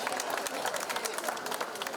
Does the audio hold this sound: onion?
no